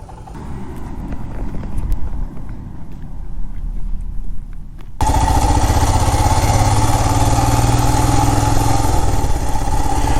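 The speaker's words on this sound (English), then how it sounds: "You can hear that engine chugging along as I'm riding through the city." Royal Enfield Himalayan 411 single-cylinder motorcycle riding through city streets, its thumping engine steady and subdued at first, then abruptly much louder with strong wind-and-engine roar for the second half.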